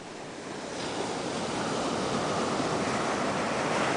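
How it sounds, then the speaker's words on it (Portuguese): Waves wash onto Praia do Demo beach at Aventureiro on Ilha Grande, making a continuous, fairly loud rushing surf that builds slightly at the start and then holds steady, with no voices. "Aqui é a praia do Demo."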